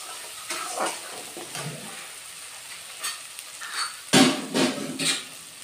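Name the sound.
jackfruit and potatoes added to hot oil, sizzling and stirring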